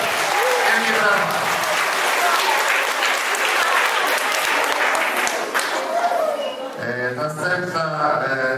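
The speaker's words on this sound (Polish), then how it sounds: "Jakie brawa!" A school audience applauds after a lot is sold at a New Year's concert auction, with dense, steady clapping filling the room. Near the end it thins out and an announcer starts to speak.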